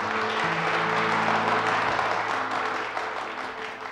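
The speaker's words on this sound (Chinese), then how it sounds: "听到 boss 班的掌声了吗？" Audience applause swells into a dense, steady wash of clapping from a crowd, then eases slightly toward the end.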